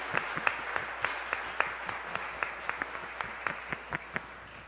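A church congregation applauds a visiting priest during a Sunday Mass, a steady wash of clapping with distinct sharp claps standing out at a moderate distance, continuous for several seconds.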